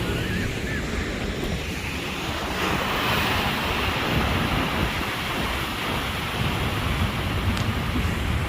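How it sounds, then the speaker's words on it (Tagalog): Rough sea waves roll onto Hornsea beach in England, a steady loud surf roar mixed with wind buffeting the microphone, continuous and close with no voices. "Maalon sa dagat today."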